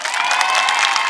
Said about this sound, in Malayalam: നല്ലൊരു കൈയടി കൊടുക്കാം നമുക്ക്.